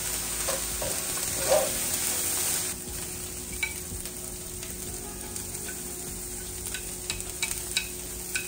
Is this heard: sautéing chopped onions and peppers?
yes